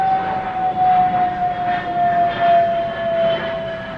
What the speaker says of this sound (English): Oh, it's one of those small like Lear jets.